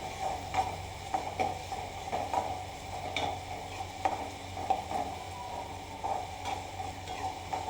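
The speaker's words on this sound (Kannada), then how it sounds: "ಸ್ವಲ್ಪ ಹೈ ಫ್ಲೇಮಲ್ಲಿ ಇಟ್ಕೊಂಡು ಈರುಳ್ಳಿನ ಫ್ರೈ ಮಾಡ್ಕೊಂಡು ಬಿಡಿ ಸ್ವಲ್ಪ" Onions frying over a high flame for a horse gram curry, a low sizzle beneath a steady run of light, rhythmic ticks and taps from the spoon stirring in the pan.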